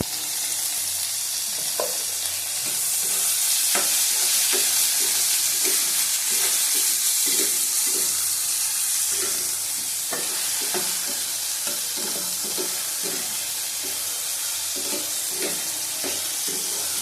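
Pumpkin, potato and ridge gourd fry in a pan with a dense, continuous sizzle, punctuated by the repeated scrape and clatter of stirring throughout, with no talking.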